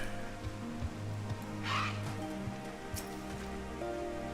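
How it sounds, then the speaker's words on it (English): Rain falls in the video game Final Fantasy XIV as a steady hiss under soft game music and ambience, with a brief splashy swell partway through. "Rain, rain, go away."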